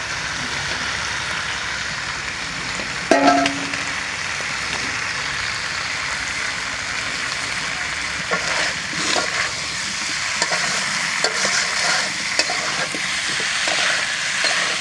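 Sweet potato curry being sautéed and stirred in a pan, a steady low sizzle with scattered scraping and clinking stirring sounds running throughout, no one talking.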